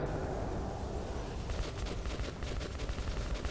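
Gunfire in the shooter game Metro 2033 Redux, a dense rattle of rapid shots that starts after a steady rumbling backdrop and keeps going in quick bursts, with no voices.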